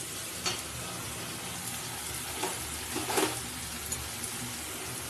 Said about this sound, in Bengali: 2 থেকে 3 মিনিট ভালো করে এটা নাড়তে হবে।